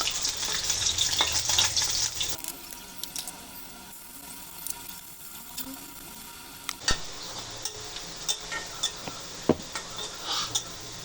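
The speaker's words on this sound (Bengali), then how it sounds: "এখন উঠিয়ে নিয়ে পেঁয়াজটি বেরেস্তা করে নেব" Onions frying until browned in a pan after fish was fried, for katla fish do-piyaza: bright sizzling at the start and end, a quieter stretch between, with repeated clinks and scrapes of a spoon stirring.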